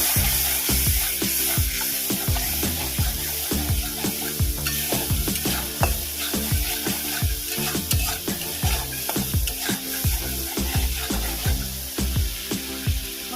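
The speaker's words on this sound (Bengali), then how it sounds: "আমি যে মশলাটা তুলে রেখেছিলাম সে মশলাটা দিয়ে দেবো মশলাটা একটু কষিয়ে নেবো" Spice paste sizzling and frying in a pan for doi potol, with a steady hiss broken by repeated scraping strokes of a spatula in a regular stirring rhythm, close and loud.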